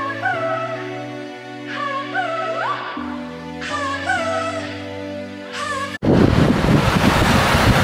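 Surf and gusting wind on a beach at Cathedral Cove, with the wash of waves rising loud and full after a stretch of softer sound, no talking.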